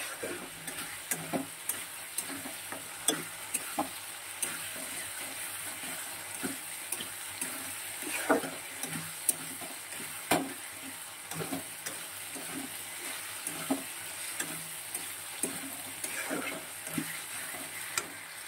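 Spice masala with salt, turmeric and chili powder is stirred and fried in a pan, giving a soft continuous sizzle broken by sharp scraping and clinking strokes of the spoon at irregular intervals.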